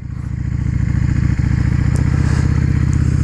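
A Yamaha Drag Star 650 custom motorcycle engine runs loud and close with a steady low throbbing pulse on a cold winter highway ride, with no one talking.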